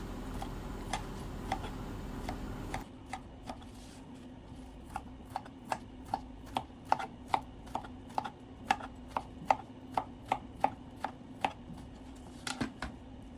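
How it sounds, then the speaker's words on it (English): Luffa gourd is sliced on a cutting board with a knife, giving a long run of crisp, evenly spaced chops, close and fairly quiet, after a short hum of background noise. "cut our Luffa gourd into half, just like this, and slice it into a slant ways"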